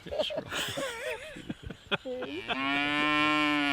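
A Jersey cow gives a long, loud, close moo at the end, following a stretch of people talking nearby.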